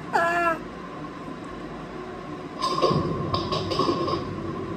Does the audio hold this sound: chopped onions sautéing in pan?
no